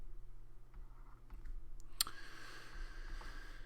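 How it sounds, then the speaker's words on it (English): Calculator buttons pressed a few times, small sharp clicks at a quiet desk, spaced and faint, with a brighter tap near the middle and no talking. "On the calculator, you might type in something like 35"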